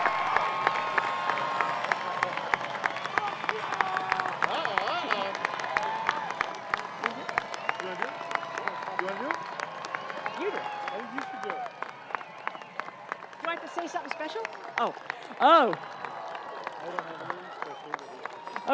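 Graduation audience at Arcata High School applauding the class of 2022: long, steady rolling clapping from a large crowd, with voices and a few shouts rising above it near the end.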